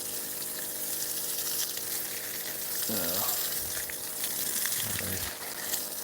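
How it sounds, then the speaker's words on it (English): Garden hose running water into a trough outdoors on a homestead, a steady broadband gush and splash with brief gurgling bubbles midway, continuous and fairly close. "I'll put this hose in the trough"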